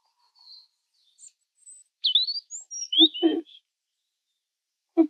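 A European robin sings in a forest, giving a few thin high notes and then a quick burst of bright twittering phrases, near and clear against silence, with a short low sound at the end.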